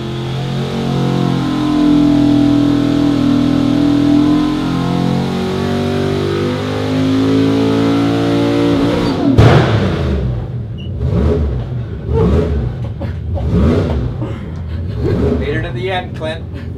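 A 383 cu.in. LS engine, built from a 6L block with an offset-ground 3.622-inch crank, revs loudly and steadily on a dyno for about nine seconds, then cuts off as several people start talking.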